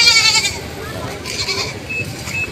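A large buck goat bleats nearby at a livestock sale, a short nasal cry over someone talking and background chatter.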